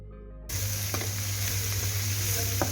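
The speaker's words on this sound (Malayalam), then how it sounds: "അതിലേക്ക് ചെറുതായി അരിഞ്ഞു വെച്ച കറിവേപ്പില, ചെറുതായി അരിഞ്ഞു വെച്ച ഉള്ളിയും കൂടി ഇട്ട് കൊടുക്കുക" Chopped onions and curry leaves hitting hot oil in a pan set off a sudden sizzle after a short quiet start, then a steady hiss with occasional stirring clicks over a low background hum, no speech.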